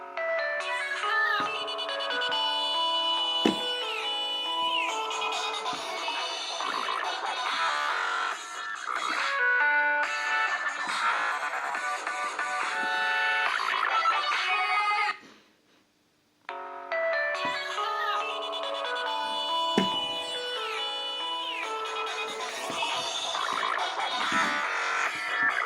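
Polyphonic ringtones from a Nokia E51 mobile phone play one after another, bright melodic tones that fill the space, broken by a brief silent pause before the next tune starts.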